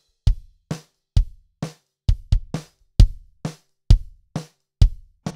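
Drum mix where the kick drum sits far louder than the snare: booming low kicks alternate with thinner, quieter snare hits in a steady beat, with no other sound.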